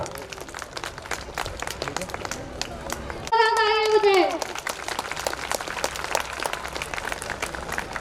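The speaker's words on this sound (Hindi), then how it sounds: "A round of applause." Audience applause at a school annual day celebration, steady clapping from a large crowd throughout, with a brief tonal interruption midway and a voice speaking over it.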